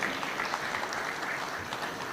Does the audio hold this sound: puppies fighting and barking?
no